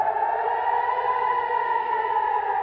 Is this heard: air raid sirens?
yes